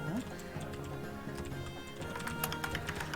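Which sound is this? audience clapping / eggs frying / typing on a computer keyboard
typing on a computer keyboard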